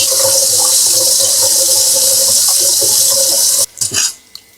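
Water runs steadily from a tap over curry leaves being washed in a kitchen sink, a continuous close hiss that cuts off near the end, followed by a few brief splashes and drips.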